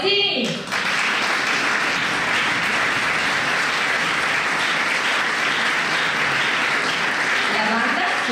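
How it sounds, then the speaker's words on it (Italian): Loud, continuous audience applause for a civic concert band and its conductor at a spring concert, filling the hall evenly from just after the start to the end, with a brief voice at the opening. "facciamo un grande applauso non solo alla banda, ma al nostro maestro Umberto Valentini."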